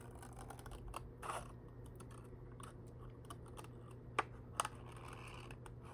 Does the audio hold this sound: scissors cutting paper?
yes